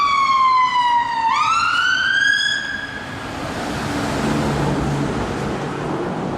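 A wailing ambulance siren sweeps loudly through its rising and falling tones, then drops in pitch and fades as it passes by a canal path, leaving a broad wash of traffic noise behind.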